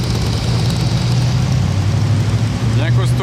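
A Cobra sports car's engine rumbles steadily and loudly close by on a Monaco street, a low idling drone throughout with a voice briefly audible near the end.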